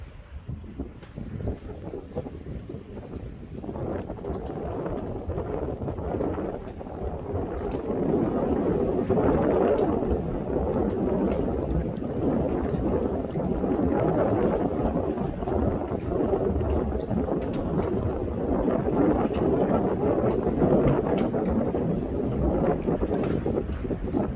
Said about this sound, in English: And there's a CityCat departing for the next stop, Bulimba Ferry Terminal.